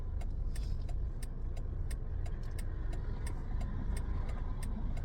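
A car passes on a road nearby, a steady broadband engine and tyre rush holding loud for several seconds, with faint metallic clicks over it and no one speaking.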